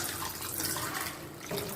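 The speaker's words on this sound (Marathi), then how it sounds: "कैऱ्या चांगल्या पाण्याने स्वच्छ धुवून घेऊ." Raw green mangoes are washed under a running kitchen tap, a steady splashing hiss of water that shifts slightly as the fruit moves in the stream.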